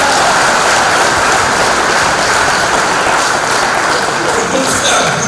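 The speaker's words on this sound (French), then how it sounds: "Vous allez applaudir ça d'abord." Crowd applause at a political coalition press conference in Côte d'Ivoire, a loud, sustained wash of clapping holding steady throughout without pause.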